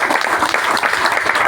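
Loud, continuous applause from an audience at a weekly business meeting in Nikol, clapping steadily and densely for the full stretch with no pauses.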